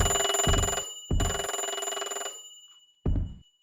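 An electronic telephone bell rings in bursts in the video game Hidden & Dangerous, two short rings then a longer one, followed by another brief ring after a pause.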